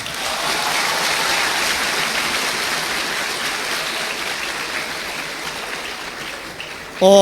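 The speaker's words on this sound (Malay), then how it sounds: "Bagi satu tepukan untuk ustaz" Applause for an ustaz from a crowd at a Malaysian talk, a steady wash of many hands clapping that holds level for about seven seconds before a louder burst right at the end.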